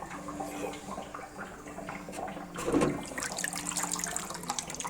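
Cleaning liquid drains and gurgles through a filter after an emissions system flush on a VW Golf 2.0 TDI, a steady watery trickle with a brief louder splash midway.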